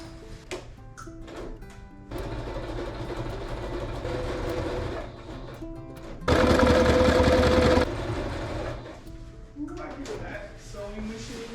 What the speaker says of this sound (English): Sewing machine sing.